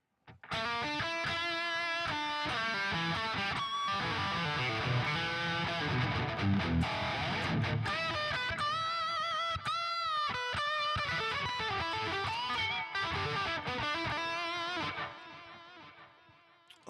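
Distorted electric guitar riffs through a ping-pong delay, repeats echoing back and forth behind each phrase, played steadily before trailing off.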